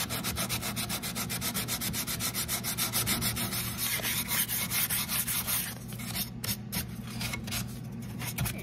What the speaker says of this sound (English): So I'm just gonna give it a sand.